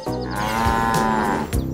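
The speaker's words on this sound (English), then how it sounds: "Black and white cow." A cow moos in one long, loud, low bellow close by, with faint clicks and rustles around it and no speech.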